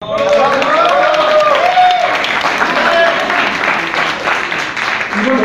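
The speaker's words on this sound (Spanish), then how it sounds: "Un aplauso, por favor." Audience applause and cheering fill a crowded celebration for a women's student tuna ensemble's 51st anniversary, a loud, steady wash of clapping with crowd voices and some tonal sounds mixed in throughout.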